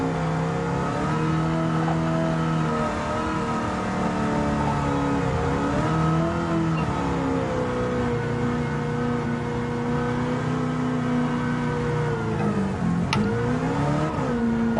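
A rally car engine is held at full throttle in Gran Turismo 7, a loud, steady close-up drone whose pitch wavers and dips slightly as gears and revs shift, with no talking.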